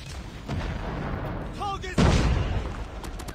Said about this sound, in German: Ich höre nur diese Sniper-Schüsse die ganze Zeit.